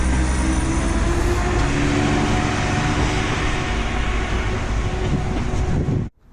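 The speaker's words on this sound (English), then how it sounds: "There goes the train." A train passes close by on a railway line near Ipswich and Lowestoft, a loud sustained rumble and rattle of carriages lasting several seconds before cutting off abruptly.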